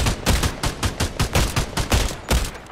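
Gunfire in Fortnite, a steady run of sharp, loud shots spaced about every quarter second, heard close and alone with no voices.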